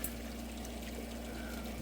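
A steady, rushing stream of water pours onto a gold sluice box beside the North Saskatchewan River, continuous and close with no talking.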